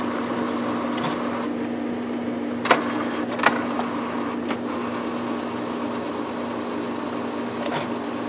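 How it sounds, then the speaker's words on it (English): An Epson printer running erratically after its power was shut off gives a steady mechanical hum with a few sharp, isolated clicks, close by and with no talk. "I have an Epson down below that's going crazy since I shut the power off"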